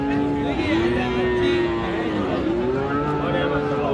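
A Friesian heifer calf lets out repeated drawn-out moos at a busy cattle market in Raniganj, Dinajpur, with steady crowd noise and chatter around it.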